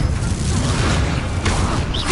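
An Incendio fire spell is cast in Hogwarts Legacy: a loud continuous roaring, whooshing blast of flame with a dense low rumble, heard close up throughout.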